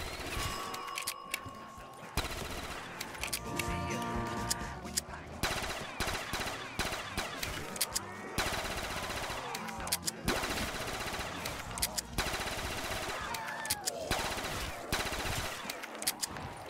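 Rapid, dense gunfire in Black Ops 3 Zombies, on a custom map, as zombies are shot down, with bursts of shots stacking almost continuously alongside game music and effects, and talk over the top.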